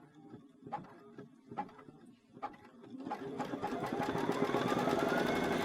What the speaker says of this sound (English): the machine's going to go right back to the stitch that I left off on